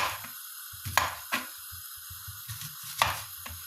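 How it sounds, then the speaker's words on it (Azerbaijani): A knife chops onion on a board for a chicken stew, giving a handful of sharp, close taps spaced irregularly, with quiet low thumps and a steady faint tone in the background. "Biraz xırdadır, amma biz belə səmavari doğrayırıq soğanımızı."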